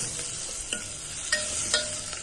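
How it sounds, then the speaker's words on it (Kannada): Urad dal deep-fries in plenty of oil for an onion chutney, giving a soft steady sizzle with a few sharp stirring scrapes and clicks. Nearby and fairly quiet. "ಉದ್ದಿನಬೇಳೆನೂ ಸ್ವಲ್ಪ ಫ್ರೈ ಆಗುವಂಗೆ ಡೀಪ್ ಫ್ರೈ ಮಾಡ್ಕೋಬೇಕು"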